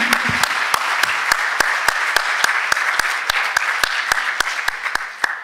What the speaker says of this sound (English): I would like to give an applause to Vivienne for the work